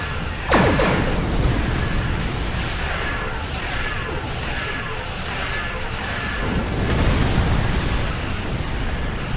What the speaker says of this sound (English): Alle Waffen Feuer frei!